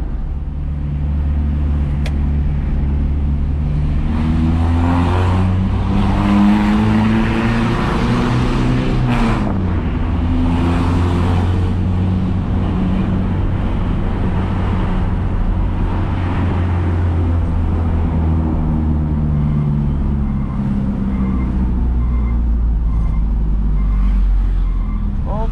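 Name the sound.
Mitsubishi L300 with aftermarket wrapped exhaust, deep bass sound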